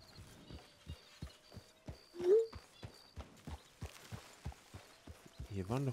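Horse hooves clip-clop at a steady walking pace in Red Dead Redemption 2, with a brief rising tone midway and someone talking over the hoofbeats.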